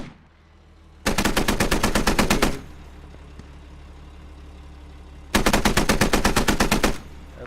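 Automatic gunfire from a 30 mm gun in a military video game, two sustained rapid bursts of about a second and a half each separated by a stretch of low engine rumble, loud and with no talking.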